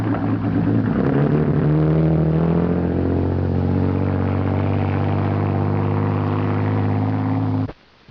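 A 1930s speedboat engine runs steadily and loud, a deep droning hum that holds for about seven seconds before cutting off abruptly near the end.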